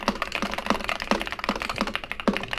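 Fingers type on a plastic Wooting gaming keyboard with wobbly switches, making a quick run of close, clacky keystrokes with a few heavier thocks at an uneven rhythm and no talking.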